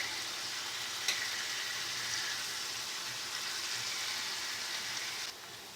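A sirloin steak fries in a pan with a steady, close, dense sizzle. It holds an even level throughout, with one brief sharp crackle near the start and no voices.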